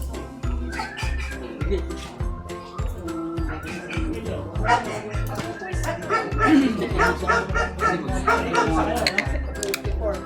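A dog barks repeatedly in short yips amid a busy background of people talking and a steady low rhythmic thumping.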